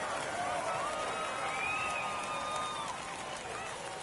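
Home crowd at a minor-league baseball game, San Antonio Missions at Amarillo Sod Poodles, roars steadily after a home run to deep left field, a dense sustained cheer with whistles rising over it throughout.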